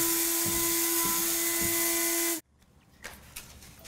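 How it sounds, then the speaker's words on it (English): Small electric grinder whirring loudly as it grinds harissa spices, a steady high-pitched buzz that cuts off abruptly, followed by faint rattling and handling knocks. "Let me grind this up."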